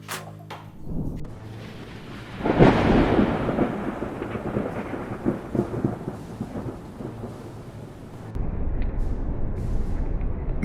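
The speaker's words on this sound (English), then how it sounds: "Massive lightning bolts struck iconic buildings along the Chicago skyline, lighting up the entire sky in a spectacular instant." Thunder from lightning strikes over the Chicago skyline: a sharp crack followed by a long, loud rolling rumble that slowly fades, with steady rain or hiss continuing underneath and no voices.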